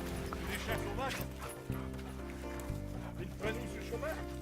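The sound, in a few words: hunting dogs barking during rabbit hunt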